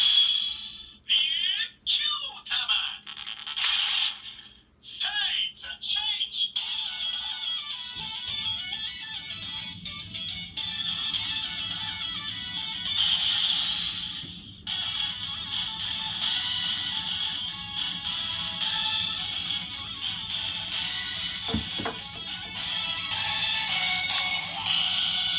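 A Kyuranger Ryutsueider transformation toy plays a run of electronic sound effects, bright beeping tones and jingles that start and stop as it is handled, mostly alone with brief handling clicks.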